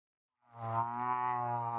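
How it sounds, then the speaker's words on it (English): A single long, steady tonal moan of humpback whale song with rich overtones, rising in slowly and holding its pitch, heard alone. "So here we get a little bit of a humpback whale song."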